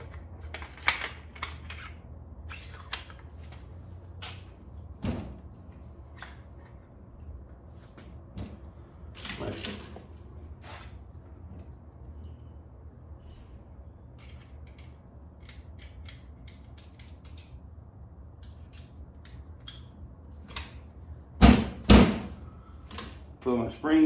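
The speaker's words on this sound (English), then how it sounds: "We're gonna put the bolt back in." Smith & Wesson FPC carbine being reassembled with its bolt slid back into place, giving scattered sharp metallic clicks and scrapes with quiet handling between them and a cluster of louder clacks near the end.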